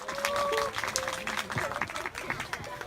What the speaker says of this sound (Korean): 여러분 자 박수로 인사말 청하겠습니다